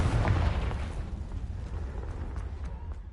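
A Confringo fire spell explodes in the video game Hogwarts Legacy, a deep booming blast with a rumbling tail that fades over a few seconds, close and loud.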